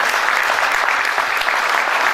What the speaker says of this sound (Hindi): आइए हम संजय पटेल जी को भी बहुत बहुत तालियों के साथ धन्यवाद दें।